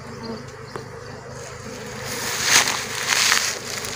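A steady hum of a honeybee swarm fills the air, swelling louder as bees pass close, with faint handling noises underneath.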